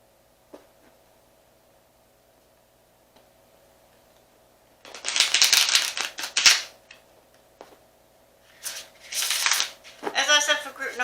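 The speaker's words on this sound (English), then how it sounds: "I do apologise if the shuffling appears to be really loud" Bursts of tarot card shuffling, loud and close: one long riffle, a second burst a few seconds later, then a rapid flutter at the end, with quiet pauses between.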